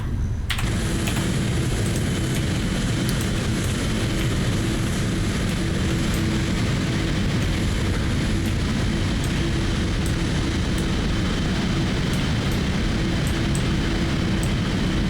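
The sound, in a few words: PMDG 777-300ER engines running in a flight simulator game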